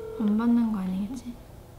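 A phone ringback tone plays while a call waits to be answered, a short, clear electronic tone that rises and then cuts off within under two seconds.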